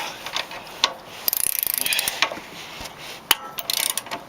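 Bolt tightened onto a bracket of a Yamaha Vmax 3 motorcycle, giving close, rapid ratchet clicks in short bursts separated by brief pauses, with light metallic tool handling between them.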